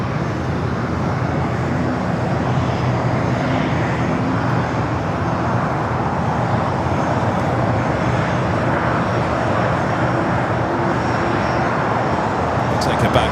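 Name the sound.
Airbus A330-200 cargo jet on runway at LAX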